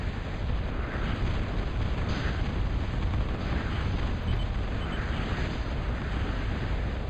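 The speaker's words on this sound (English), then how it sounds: "Here come his bombers for his bombing run." Bombers make a bombing run in a strategy video game, heard as a continuous dense roar of rumbling explosions and distant blasts without pause, loud and steady throughout.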